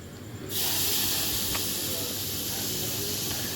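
Dried shrimp (sode) hit a hot pan and burst into a loud, steady hissing sizzle that holds on after the initial splash, close and continuous.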